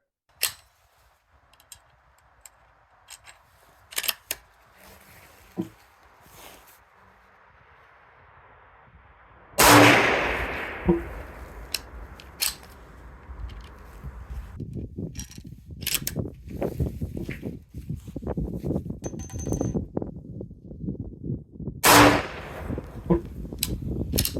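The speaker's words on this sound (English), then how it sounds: "I'll shoot a supersonic, subsonic, and a subsonic suppressed." A compact single-shot 300 Blackout prototype rifle is fired at a range, with two loud sharp reports well apart and handling clicks and mechanical clatter of loading between them.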